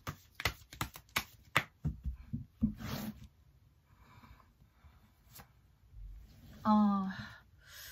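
Tarot cards being shuffled at a table: a burst of sharp riffling card snaps at the start, then softer sliding and a few taps, with a brief voice near the end.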